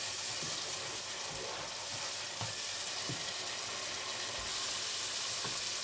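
Mutton kofta masala frying in a pan, a steady close sizzle with soft bubbling and occasional stirring scrapes, with no talking.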